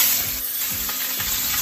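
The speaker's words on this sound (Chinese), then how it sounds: "锅里放入多点油，把油淌均匀，再往锅里撒入一点盐，把火关掉，把鱼放进去。" Fish frying in a pan of hot salted oil, a close steady sizzle with a few soft stirring scrapes.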